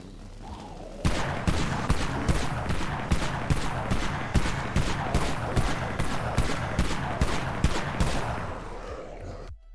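Shotgun fire in the Dead Frontier video game, a rapid string of loud, close blasts in fast succession for several seconds, sharp reports running together like sustained gunfire.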